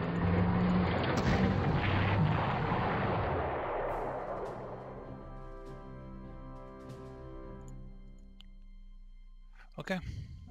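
A heavy artillery blast in the strategy game Panzer Corps, set in a WWII campaign at Toulon, booms loudly and then rolls away into a long fading rumble, with a short sharp sound near the end.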